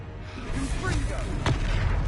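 A Confringo blasting spell explodes in the Hogwarts Legacy video game, a sharp burst landing amid continuous game noise and background music, with voices shouting spell names around it.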